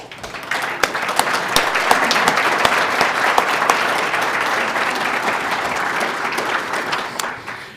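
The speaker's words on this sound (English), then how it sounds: "Would the members of the Education Foundation who are here tonight please stand so we can give them a round of applause." Audience at an evening awards ceremony applauding the education foundation members, a dense, steady wash of many hands clapping that swells quickly and holds loud for several seconds before tapering slightly at the end.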